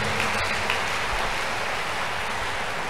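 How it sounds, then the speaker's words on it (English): A church crusade congregation claps together in praise, a dense, even wash of applause that fills the whole stretch without letting up. "We clap offering to Jesus."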